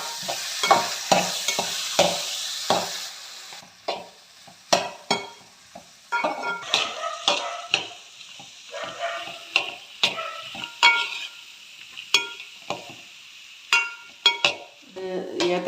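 Chopped plantain is stirred in a pan while making banana payasam, giving repeated, close scraping and clattering strokes in an irregular rhythm over a faint sizzle.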